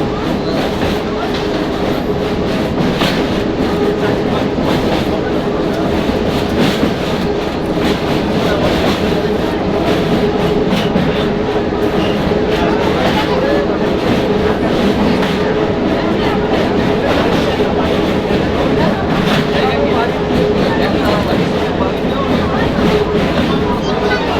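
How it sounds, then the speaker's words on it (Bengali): A local passenger train from Digha to Panskura rumbles steadily along the tracks from inside an empty carriage, with a constant rattling roar and faint rhythmic clatter throughout. "লোকাল ট্রেনে করে দীঘা থেকে পাঁশকুড়ায় ফিরছি আর এই ট্রেন একদম খালি"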